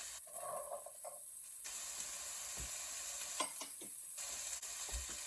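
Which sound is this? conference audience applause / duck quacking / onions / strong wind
onions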